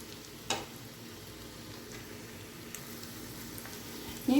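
Onions frying in a pan with garlic for Kerala beef kondattam, a faint, steady sizzle with a couple of brief clinks from stirring, quiet and unbroken without talk.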